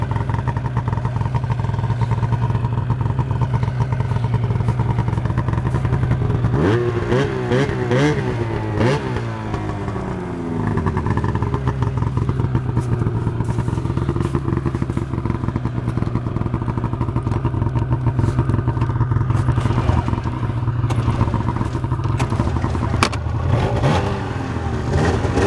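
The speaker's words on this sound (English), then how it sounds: "Sounds so fucking good for a stock exhaust." Arctic Cat snowmobile engine with stock exhaust, running near a water crossing: a steady loud idle drone broken by sharp revs around the middle, then settling back into a rough, continuous idle.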